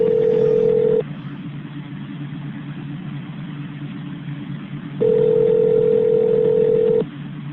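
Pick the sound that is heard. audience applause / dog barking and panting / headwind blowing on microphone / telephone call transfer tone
telephone call transfer tone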